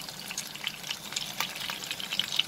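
Onions sauteing in hot oil for bhindi do pyaza, a soft, steady sizzle with light crackles and faint stirring, heard close and fairly quiet with no talking.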